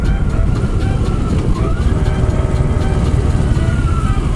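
Steady motorcycle engine and wind roar from a Kawasaki Ninja 650 on a narrow rural road, with a car passing nearby partway through; continuous loud noise throughout, no talk.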